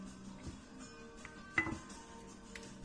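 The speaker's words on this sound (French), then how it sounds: "Donc on vient écraser tout ça, enfin écraser, mélanger." A utensil mashes and stirs spinach, feta and cherry tomatoes in a baking dish: soft, faint scraping with a few light ticks, and one sharper clink partway through.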